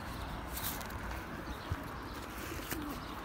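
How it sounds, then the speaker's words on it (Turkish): Outdoors in a public square, a young carrier pigeon gives a couple of faint coos over a steady background of street ambience. "Bir tane posta yavru."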